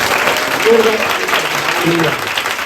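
A church congregation claps and applauds together in a dense, continuous wash of hands, with a voice speaking over the noise throughout.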